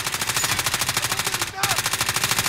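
Sustained rapid automatic gunfire in Warzone, a loud close stream of shots with a very brief break midway before the burst resumes.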